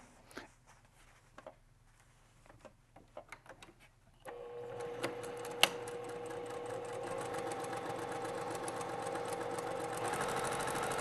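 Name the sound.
sewing machine stitching quilt pieces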